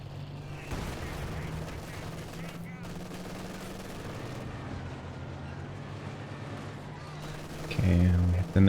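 Panzerwerfer rocket barrage and gunfire in a real-time strategy game, a dense continuous rumble of distant explosions and rattling shots under a low steady hum, with a heavier boom at the end.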